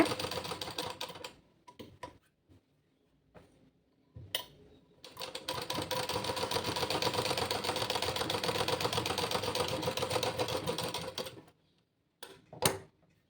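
Sewing machine runs a steady stitch down the centre of a blouse on the wrong side, with a long continuous whirring burst of about six seconds between shorter starts and stops, close and clear with no talk.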